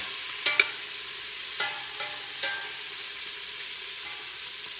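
Pork rib tips sear in a pan under a steady broadband sizzle, with a few sharp clacks and scrapes as the pieces are flipped, and nobody talks.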